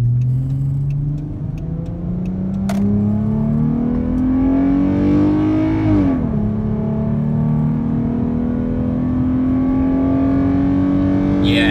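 A V6 Dodge Charger with a Pypes performance exhaust roars steadily under load, pitch climbing as it accelerates, dips briefly mid-clip like a gear shift, then keeps building; heard from inside the car with windows up.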